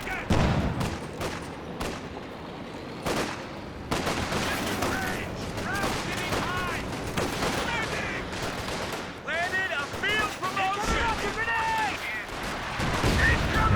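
Double rocket fire in the Company of Heroes 2 real-time strategy game: repeated sharp blasts and rumbling barrages, with a commentator talking through much of the battle noise.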